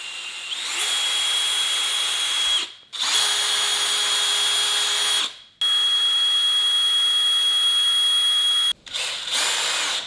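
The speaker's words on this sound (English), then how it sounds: "I've never drilled through a caulk tube before." A power drill bores through a caulk tube in three long high-pitched whining bursts separated by brief pauses, loud and close, with a short fourth burst at the end, during a repair of hollow-sounding tiles.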